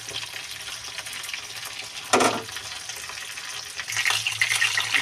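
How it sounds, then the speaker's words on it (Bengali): Bhola fish frying in oil in a pan for a mustard paste recipe, a steady soft sizzle with a brief louder burst of spattering near the middle and more crackling toward the end. "আস্তে আস্তে মাছটা ভাজা হোক"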